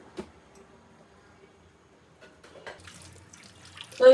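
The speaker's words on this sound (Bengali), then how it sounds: "মাছগুলো ধুয়ে নিতেছে, কাতল মাছটা" Water runs from a tap over catla fish being washed in a home kitchen, a faint, intermittent splashing that grows busier toward the end.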